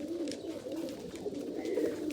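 Soft, low pigeon cooing murmurs continuously throughout, a steady throaty warble with faint higher chirps drifting in the background.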